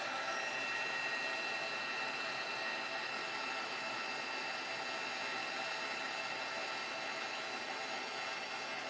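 A heat tool melting embossing powder for a Christmas craft, a steady, fairly quiet blowing whir holding unbroken throughout.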